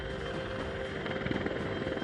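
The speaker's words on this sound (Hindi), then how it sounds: "चीन से लगने वाली सीमा पर 2 अत्याधुनिक हेलीकॉप्टर तैनात किए गए हैं, चिनूक और अपाचे।" Chinook and Apache military helicopters at an air base near the India–China border give a continuous, dense rotor and engine roar that holds steady and muffled throughout, with no voices.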